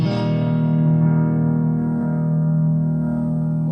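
A clean electric guitar chord on a Jackson DK2 MIJ, bridge pickup, rings out and sustains smoothly, warm and steady, slowly decaying with no distortion.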